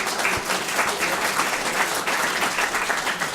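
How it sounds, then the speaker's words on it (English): Steady applause from an audience at a university scholarship reception, many hands clapping together in a continuous, even wash that holds throughout. "Let's give her a round of applause"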